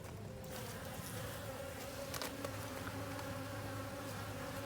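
Honey bees buzz steadily around a calm, freshly marked queen bee, a continuous close droning hum with no talk over it.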